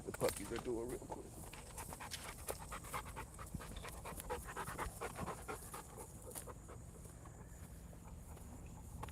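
Puppies pant quickly and steadily, close by, alongside a mother dog, with scattered footsteps and rustling throughout and a low background hum.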